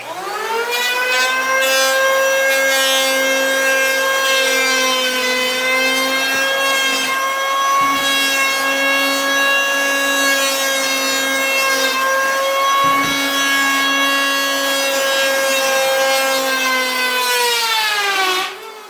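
A power sander making a light pass over marine plywood, a loud sustained whine with a steady pitch that rises slightly at the start and drops off at the end, with no talking.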